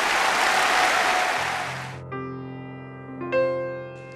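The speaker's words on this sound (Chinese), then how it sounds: "来来，掌声欢迎啊！" An audience at a televised singing show applauds to welcome singers onstage, a dense burst of clapping that fades out as music begins with sustained tones.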